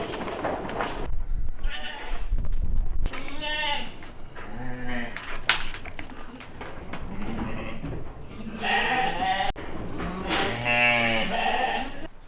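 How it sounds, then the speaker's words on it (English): Sheep crowd into a pen, with several overlapping bleats from close and farther off, loud and continuous against a rustling farmyard background. "Ken had to give the sheep basically medicine to help them fight it off."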